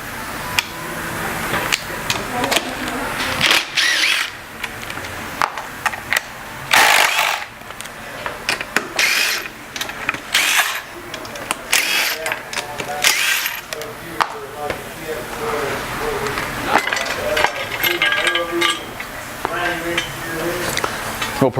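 Bolts and a shaft nut are removed from a TRUBLUE Speed auto-belay unit during servicing, with ratcheting clicks, metallic clatter and tool rattles repeating throughout while a person talks over the work.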